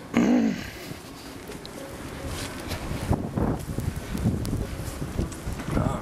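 Blizzard wind buffets a camera microphone outdoors in a low, continuous rumbling roar with gusty swells and a sharp burst at the start.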